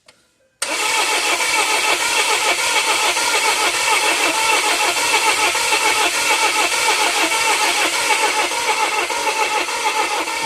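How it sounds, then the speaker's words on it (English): A 2017 Volvo XC90 with a crank-no-start fault cranks after a brief quiet start, the starter churning loudly and rhythmically for about ten seconds without the engine catching. "So we'll go ahead and crank and see what we find."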